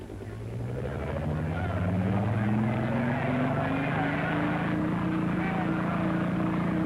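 A helicopter's steady rotor and engine drone rises in pitch and holds loud and close throughout, with no other sounds.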